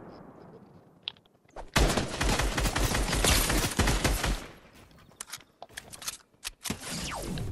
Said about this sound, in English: somebody else shooting from somewhere